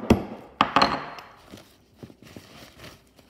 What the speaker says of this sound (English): then I'm going to get the hammer and